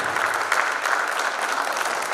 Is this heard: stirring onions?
no